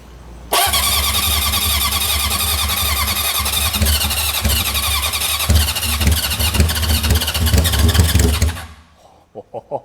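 A junkyard Honda CB750F motorcycle engine cranks on choke and tries to catch, loud churning starter and sputtering engine noise, running steadily before cutting out into brief trailing knocks.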